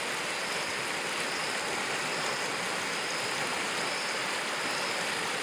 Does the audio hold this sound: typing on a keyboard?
no